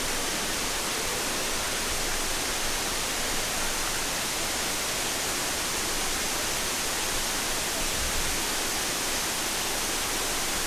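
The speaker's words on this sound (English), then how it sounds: "So we finally made it to the waterfalls." Waterfall on Lombok roaring steadily, a dense, constant broadband rush of falling water close by, with no pauses or voices.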